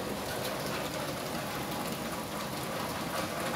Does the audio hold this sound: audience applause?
no